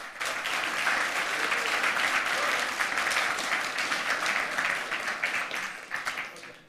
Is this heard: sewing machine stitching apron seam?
no